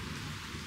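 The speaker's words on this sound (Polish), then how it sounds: "Ten deszcz zaczął padać, ale tak przelotnie" Rain falls in a steady, dense hiss with a low rumble underneath, a brief passing shower just starting outdoors, heard alone without talk.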